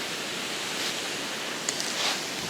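Wind rushes over open water on the Volga beside a fishing boat, a soft, continuous broadband hiss with slight swells and faint lapping of waves, fairly quiet and with no talking.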